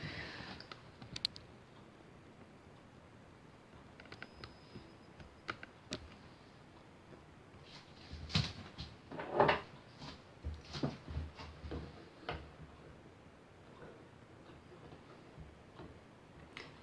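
Heavy medieval-style fabric being cut for sleeves, heard as scattered faint clicks and scissor snips that grow busier and louder toward the middle, with soft handling rustles and no talk.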